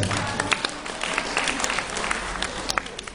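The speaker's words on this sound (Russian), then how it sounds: "Ваши аплодисменты!" An audience at an art club meeting with an artist claps in a steady, moderate round of applause that lasts the whole short stretch.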